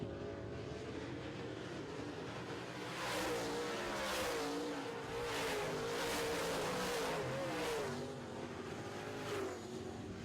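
Late model race cars run a heat race on a track, a steady distant engine drone that swells as the pack passes, with several pass-by sweeps and revving through corners and no voice.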